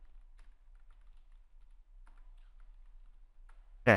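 Typing on a computer keyboard while entering Google into a WordPress setup page: sparse, quiet key clicks in a few short bursts over low background hum, ending with a louder burst of noise.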